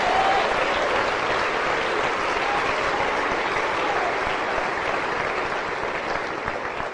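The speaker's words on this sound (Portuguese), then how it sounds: "Você pode aplaudir ao Senhor se você crê nesta noite." A church congregation applauds steadily at an evening service, a dense and sustained wash of many hands clapping that fades a little toward the end, with no speech over it.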